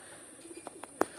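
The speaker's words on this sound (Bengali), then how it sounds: "এটা আমাদের মল্লিকীর সাহেবের ডাইরেক্ট ব্লাড লাইনের কবুতর" A large, band-necked pigeon of a pedigree bloodline gives a few faint, short coos and soft chirps, rising to one louder note near the end over quiet background hiss.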